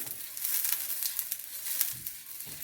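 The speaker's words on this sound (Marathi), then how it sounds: "कांद्याच्या साहाय्याने मी तेल लावते। चारही साइडने आपण तेल लावून घेऊया।" Oil is rubbed with an onion over a hot pan, giving a soft, hissing sizzle with crackly bursts and light scraping, fairly faint and close, with no speech.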